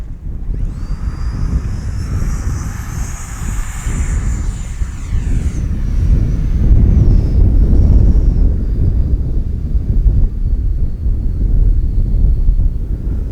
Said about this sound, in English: Man, that's a good flying little jet.